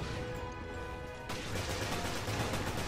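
Shotgun blasts in the survival-horror game Resident Evil Revelations, a dense run of loud, crackling reports that shift into a rougher, heavier burst partway through, with no talk over them.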